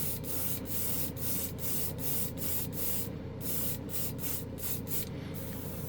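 A continuous hiss of air blowing from a paint spray gun, steady and close, with faint rhythmic ticks running through it.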